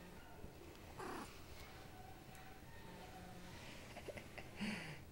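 A house cat purrs softly and close by, a faint steady rumble in a quiet room, with a couple of brief brighter cat sounds breaking in.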